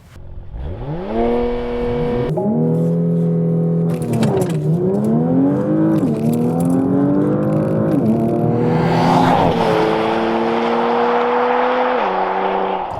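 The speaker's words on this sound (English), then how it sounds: "I just love how simple it is to do a launch control start in a Porsche." A Porsche Macan GTS does a launch control start: the engine revs up, then the SUV pulls away hard through several upshifts, each marked by a brief drop in the loud, rising engine tone, with road and wind roar building at the end.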